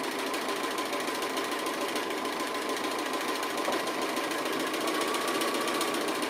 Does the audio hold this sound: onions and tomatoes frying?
no